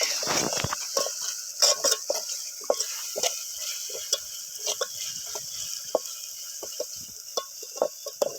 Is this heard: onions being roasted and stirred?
yes